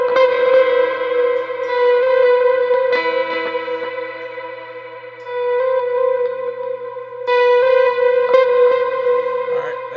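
Electric guitar volume swells through reverb, echo and distortion effects, sustained chords fading in and holding, shifting to new chords twice, with a smooth, washy ambient tone, close and fairly loud with no talking.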